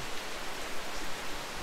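Warm rainy-season rain falling steadily outdoors, a dense even hiss that stays constant throughout with no talk over it.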